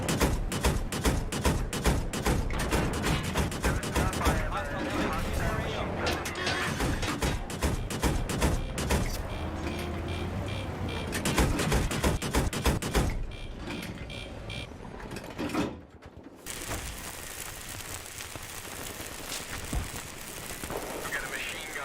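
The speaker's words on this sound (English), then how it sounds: "We got a machine gunner in the AO." Machine gun fire in Battlefield 3 on PS3 crackles in long rapid bursts amid vehicle rumble and thuds, loud and dense before thinning near the end, with a voice talking over parts of it.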